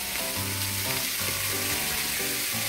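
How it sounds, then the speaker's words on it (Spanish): Chicken breast fries in a pan over medium heat, an even, close sizzle that carries on without a break beneath a faint musical backing. "se va quedando nuestra pechuga, que la tengo a fuego medio para que se cocine bien por dentro"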